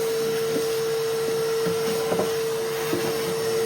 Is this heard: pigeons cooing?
no